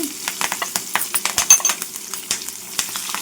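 Cumin, chopped onion and green chilli pieces frying in a pan for coconut masala rice, with repeated light scraping and stirring clicks over a soft steady sizzle, close and fairly quiet.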